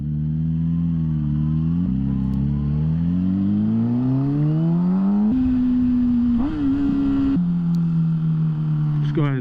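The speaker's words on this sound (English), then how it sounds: "I'm on a motorcycle." Motorcycle engine running while riding through a city, close and continuous, its pitch climbing steadily as it accelerates and dropping briefly at gear shifts before rising again.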